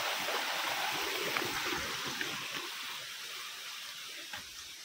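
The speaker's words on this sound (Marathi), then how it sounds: "बघा इकडे पाणी बघा कसं आहे ते इकडे वरून." Water flows down from above in a soft, steady rushing stream, heard faint and continuous on its own with no talk.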